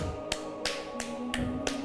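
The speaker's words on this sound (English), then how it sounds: "Now we're going to clap our hands" Five sharp, evenly spaced hand claps ring out close and crisp over a faint background hum during a tai chi energy ball warm-up.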